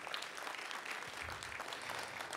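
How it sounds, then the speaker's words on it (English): Faint, distant applause from an audience at a panel and orientation gathering for Black male leaders, a steady wash of clapping without talk. "if we could acknowledge them and give them a round of applause for the work that they do"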